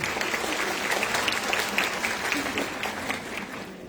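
An audience of education students claps steadily for several seconds at a university panel discussion, a dense, even round of applause that softens slightly toward the end.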